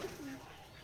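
Pigeons at a pigeon farm give a brief, soft, low coo, heard faintly and close.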